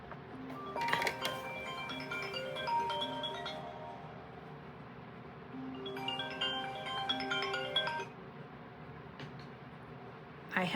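A mobile phone rings nearby in two separate bursts of bright melodic ringtone chimes, one early and one midway, in a quiet indoor room.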